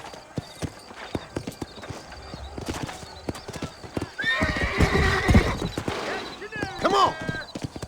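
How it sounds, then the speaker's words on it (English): In Red Dead Redemption, hooves clip-clop in a steady sparse rhythm, and then a horse lets out a loud, close whinny followed by a second neigh. Voices talk faintly underneath. "You ain't gonna find sturdier horses than these in all of New Ulster"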